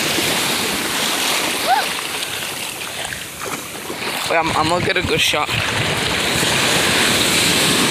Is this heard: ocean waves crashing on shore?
yes